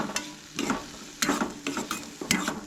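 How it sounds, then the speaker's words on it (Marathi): Capsicum being stir-fried in a pan for cabbage manchurian: a spatula scrapes and knocks against the pan in several quick, uneven bursts over a light sizzle, close and fairly soft. "सो हे हलकेशें बरें फ्राय करून घेयात."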